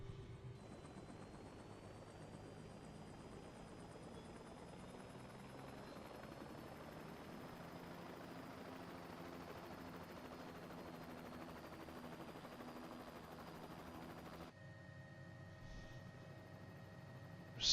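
In the Microsoft Flight Simulator game, a private helicopter's engine and rotor hold a steady, loud whine and thrum that gradually climbs in pitch, then cuts off abruptly near the end.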